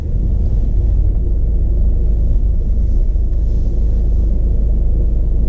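Car pulling away in first gear during parallel-parking practice for a driving test, a steady loud low engine rumble running throughout without any talk.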